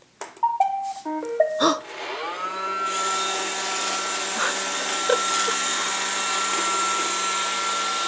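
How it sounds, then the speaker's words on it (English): A Roomba robot vacuum cleaner starts up after a few short chiming beeps, then settles into a steady, loud whirring drone that runs continuously and close by, with no talk. "Is that your Roomba?"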